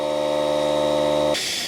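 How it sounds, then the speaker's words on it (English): A steady tonal hum with a hiss, then the hum cuts out abruptly, leaving a loud continuous rush of air escaping from a tyre valve on a 1929 Austin Heavy 12/4. "Excuse that horrible noise. You can hear the hissing,"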